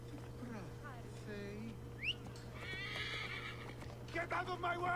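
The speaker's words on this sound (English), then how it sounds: "Look at my fancy horse." A horse whinnies loudly in the video game Assassin's Creed: Origins, over a steady low hum, with brief hoof clatter and squeaky chirps, and a voice talking in the background.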